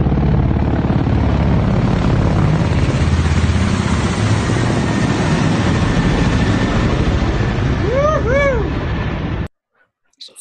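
A helicopter flies overhead during a patrol incident, its steady loud rotor and engine roar filling most of the stretch before cutting off abruptly near the end, with a brief rising and falling tone above it.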